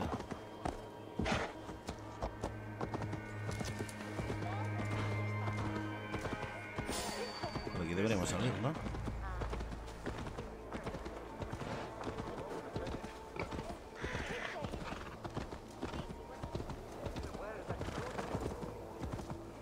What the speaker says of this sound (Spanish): Vamos, galopa más, caballo